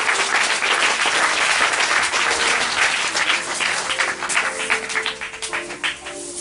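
A church congregation gives loud, sustained applause during a sermon on kingdom economics, with dense clapping from a large crowd that continues for several seconds before tapering slightly, with faint voices mixed in.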